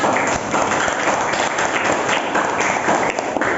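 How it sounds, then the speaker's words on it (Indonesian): Students clapping in a school classroom after a classmate's map lesson summary, brisk steady applause from a small group close by for several seconds. "tepuk tangan"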